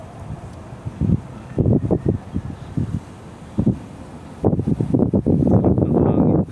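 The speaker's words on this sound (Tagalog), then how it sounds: "Sarap ng hangin." Gusty wind buffets the microphone inside a car during a driving lesson, coming in low rumbling bursts that swell and drop, rough and close.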